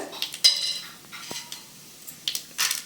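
Mustard seeds and urad dal dropped into hot oil for a keerai poriyal, bringing brief crackles and spatters along with light clinks of a spoon against the pan, close by with quiet gaps in between.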